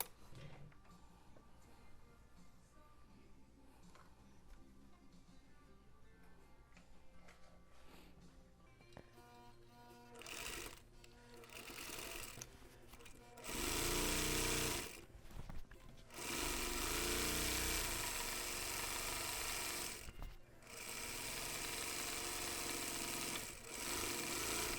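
A sewing machine top-stitches variegated thread onto a fabric piece, starting with quiet ticking and faint motor whir, then running in loud sustained bursts with brief pauses between stitching runs.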